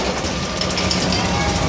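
An amusement park ride train pulling into the Boomtown Depot, a steady low engine rumble and rolling noise, close and continuous, with some faint voices in the background.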